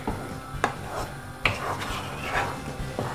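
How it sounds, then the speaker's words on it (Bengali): Spice masala for butter chicken fries in a pan while being stirred, with sharp metal spoon knocks and scrapes against the pan over a low, steady sizzle, heard close. "মশলাটাকে এখন খুবই ভালো মতো কষাতে হবে।"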